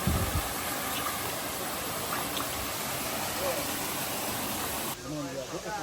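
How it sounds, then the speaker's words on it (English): River water in Gutter Head River, St. Thomas, Jamaica rushes down in a continuous, close, hissing wash that holds level for most of the stretch before it briefly dips and resumes. "You can hear the stream of water come down."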